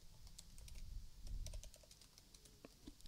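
Typing on a computer keyboard while coding a web page, with quick irregular key clicks and a few louder taps, close and fairly quiet, with no talking.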